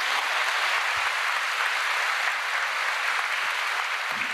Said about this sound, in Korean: 우리 큰 박수로 격려하고 축복하며 맞겠습니다